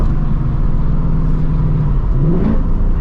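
A 2024 Ford Mustang GT with the Gen 4 Coyote V8 drones through its exhaust, heard from inside the cabin with windows cracked, a loud steady low rumble that swells briefly as the engine revs.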